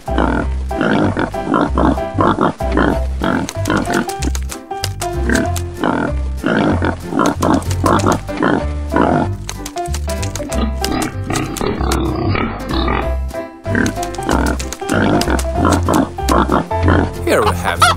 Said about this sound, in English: Here are some pig.